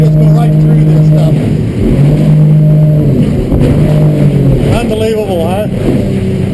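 A 24-foot Edge Sport OS motorboat powers through waves with a steady engine drone and hull slaps, loud and close throughout, while people talk over it.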